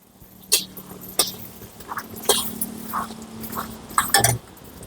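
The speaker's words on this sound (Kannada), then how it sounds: "ಬದನೆಕಾಯಿ ಫ್ರೈ ಮಾಡ್ತಾ ಇದ್ದೀನಿ" Brinjal being stirred as it fries in a pan for rava vangibath, heard as scattered metallic clinks and scrapes of a spoon against the pan over a low steady hum, with quiet gaps between strokes.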